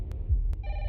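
A telephone rings in a short electronic burst near the end, clear and moderately loud over a low background hum, with a couple of soft clicks just before it.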